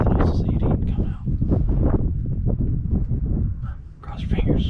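Strong wind buffeting the microphone outdoors during a South Texas hunt, gusty rumbling bursts that rise and fall throughout while a person talks quietly over it.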